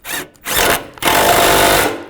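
A power tool drives and tightens bolts on a Volkswagen Beetle radiator, loud close whirring in three bursts, with the last burst running steadily to the end.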